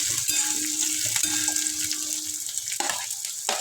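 Carrots frying in a pan of vegetables for soya biryani, a steady sizzle with scraping stirring strokes and occasional clinks of the spoon, close and moderately loud.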